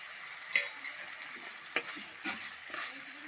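Tomatoes tipped into a frying pan of mushroom bhaji give a faint, soft sizzle, with a few sharp clicks of a spoon against the pan scattered through the short stretch.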